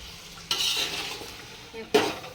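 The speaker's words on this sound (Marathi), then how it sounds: "लसूणची पेस्ट पेस्ट चांगली कच्चापणा जाईपर्यंत चांगली परतून घ्यायची आहे तेलामध्ये भाजून घ्यायची" Garlic paste frying in hot oil for a veg biryani, with a loud close sizzle and a spoon stirring and scraping the pan in two bursts.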